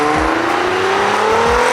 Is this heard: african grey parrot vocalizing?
no